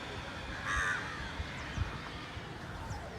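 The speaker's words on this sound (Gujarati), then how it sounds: "કાગડા બોલે છે" Crows caw outdoors at a moderate distance, a short burst of harsh calls followed by scattered fainter caws over quiet ambient noise.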